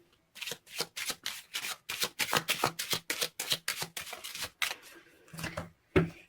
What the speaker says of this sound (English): So let me pull some Lenormand's cards to clarify the situation.